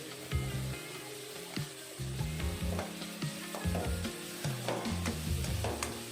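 Chopped tomatoes frying and being stirred in a pot while cooking down for coconut rasam, with steady sizzling and repeated scraping stirs close by, no voices.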